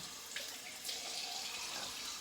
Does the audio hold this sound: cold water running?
yes